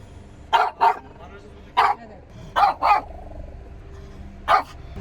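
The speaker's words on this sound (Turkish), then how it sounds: "Yani gören de sanacak ki dünyanın en korkunç köpeği." A dog barking in short loud pairs and single yaps, close and sharp with gaps between the bursts, over a faint low background.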